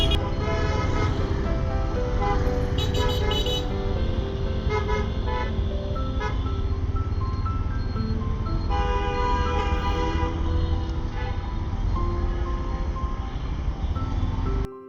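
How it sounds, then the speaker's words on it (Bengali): An emergency ambulance passes on a city road, its loud tonal siren and horn blaring continuously over road traffic. "ইমার্জেন্সি সার্ভিস অ্যাম্বুলেন্স যাচ্ছে।"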